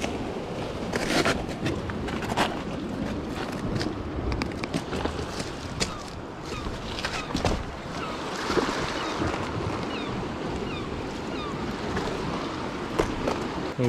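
Sea waves surging around coastal rocks on a UK shoreline as the tide pushes in, a steady rushing wash with intermittent splashes and wind buffeting the microphone.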